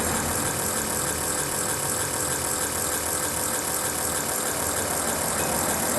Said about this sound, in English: I have to pump a lot in order for the fuel to get in there.